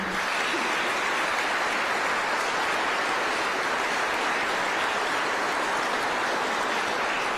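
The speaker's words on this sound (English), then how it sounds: "Let us give all a round of applause to these people today" Steady, fairly soft applause from an audience at a public safety event with the Alabama governor, an even wash of clapping running unbroken with no talk over it.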